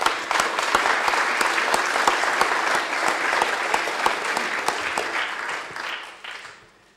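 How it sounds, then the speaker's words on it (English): Sustained applause from those attending a Dudley borough council meeting, steady clapping at a constant level that thins and fades out over the final second. "Can we please give them a round of applause?"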